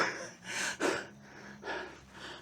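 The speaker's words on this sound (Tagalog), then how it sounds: "Pero hinihingal ako." Heavy panting from a man out of breath after hauling camping gear at a rainy, foggy Baguio campsite; a few deep, close breaths and gasps, with no talking.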